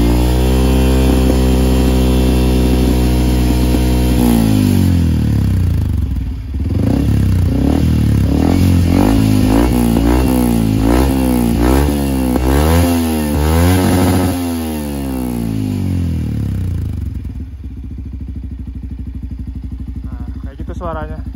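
A motorcycle fitted with an aftermarket WR exhaust, RSS standard pure type, revs hard and loud at high RPM. The engine note climbs and falls repeatedly in quick swells, then settles back to a lower idle. Someone talks over part of it.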